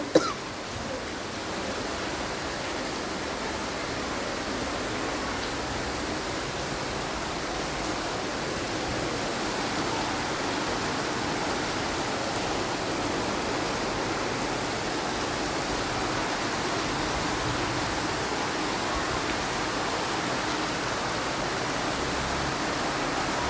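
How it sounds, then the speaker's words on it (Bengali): Heavy downpour outside a house, soaking the veranda and garden plants, a constant broadband rush of rainfall holding level from start to finish after a brief knock at the opening. "বাইরে অনেক বৃষ্টি হচ্ছে"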